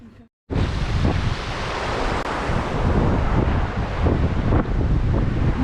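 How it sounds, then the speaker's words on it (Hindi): A river flows just behind a temple in Goa, a steady, loud rushing wash that runs unbroken after a brief silence at the start, with wind buffeting the microphone. "मंदिर के जस्ट पीछे ही देखिए बहुत प्यारी सी नदी बह रही है।"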